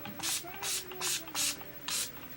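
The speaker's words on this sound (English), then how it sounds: "I'm going to use the Urban Decay All Nighter Makeup Setting Spray" Urban Decay All Nighter makeup setting spray misted onto a face in five quick bursts, each a loud close hiss about a quarter second long with brief pauses between.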